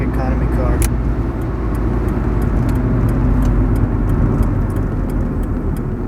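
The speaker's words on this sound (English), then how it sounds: "It is a tiny engine, but it seems to have good torque. It pulls pretty nicely." Small engine of a 1998 Ford Escort SE pulling under load while driving, a steady low drone with road rumble heard from inside the cabin, loud and continuous, with light ticks and rattles and a person talking over it.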